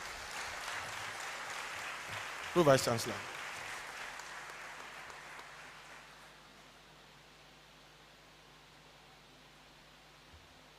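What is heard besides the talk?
audience clapping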